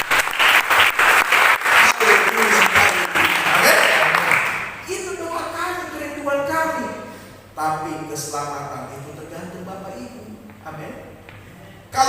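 A church congregation applauds loudly for several seconds during a sermon, then someone speaks over fading claps with a low hum in the background.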